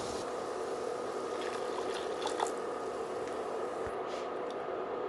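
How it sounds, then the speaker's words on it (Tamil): Half a cup of water pours and trickles softly into a pot of biryani gravy, a steady liquid splashing with a few faint drips, fairly quiet and close. "நல்லா 1/2 கப் தண்ணி சேர்த்து கலக்கி சேர்த்துக்கலாம்"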